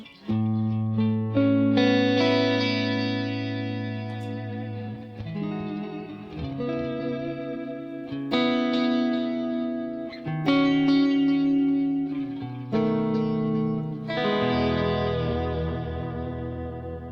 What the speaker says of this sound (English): I'm starting on the top, which is the standard delay